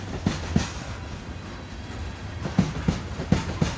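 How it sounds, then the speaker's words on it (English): A freight train rolls past by a river, its wagons making a rumbling, rhythmic clickety-clack with sharp wheel thumps at uneven intervals over a constant low roar. "that's the tail end of the train off in the distance over there"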